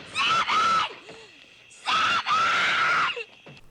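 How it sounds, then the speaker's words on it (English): A woman in a horror film attack scene lets out two long, piercing screams, each broken by a brief gasp, with a low groan and quiet breathing in between. "we get treated to the girlfriend screaming"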